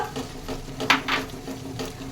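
Chilli chicken is stirred in a pan, with a few scraping strokes of a spatula over a soft sizzle, close and brief.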